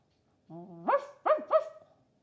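A dog barks several times, a rising whine followed by three short yips, close and clear against silence.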